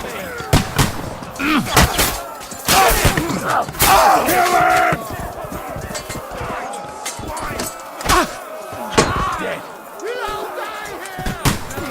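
Gunshots ring out during a chaotic Kingdom Come Deliverance 2 battle, sharp loud reports repeating at irregular intervals amid clashing, shouting fighters and crowd noise.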